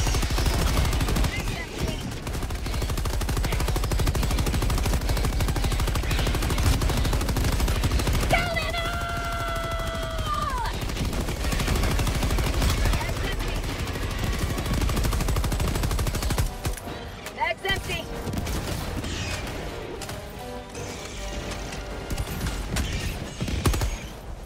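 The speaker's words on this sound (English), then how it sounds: "Gunfire. I need more gunfire." Rapid gunfire in the video game Helldivers 2 rattles almost continuously in a dense, chaotic battle mix, with bursts, mechanical clatter and a brief rising electronic tone partway through.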